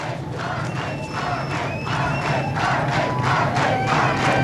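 An enthusiastic election-night crowd cheering and shouting before a victory speech, a dense roar of many voices that swells louder and stays sustained throughout.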